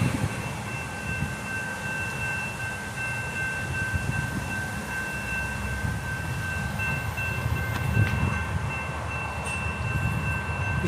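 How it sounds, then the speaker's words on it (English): Pedestrian grade crossing bells ringing steadily at College Park on a CSX line, a sustained electronic tone over low rail rumble and outdoor ambience as a freight train approaches. "we got the pedestrian grade crossing bells ringing, meaning a train's coming"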